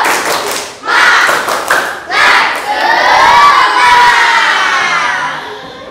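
Junior high schoolchildren in a classroom burst into a loud, energetic group chant and shouting cheer, with a few quick claps at the start, as part of a rhythmic spirit clap.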